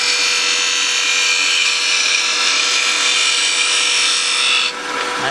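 A turning tool cuts wood on a lathe while shaping a box, giving a steady, bright, hissing scrape against the spinning workpiece that holds even and close before easing off near the end.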